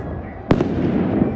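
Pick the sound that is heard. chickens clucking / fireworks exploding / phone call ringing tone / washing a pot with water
fireworks exploding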